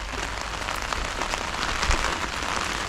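Heavy monsoon rain in the Konkan pattering on a surface nearby, a dense, even hiss of drops with no voices.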